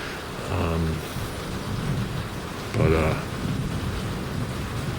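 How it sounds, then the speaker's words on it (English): Thunderstorm with steady heavy rain pouring down and low rumbles of thunder rolling through, while a couple of voices speak briefly over the downpour. "Usually storms only last here for like 10 minutes."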